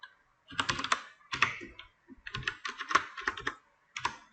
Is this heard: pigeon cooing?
no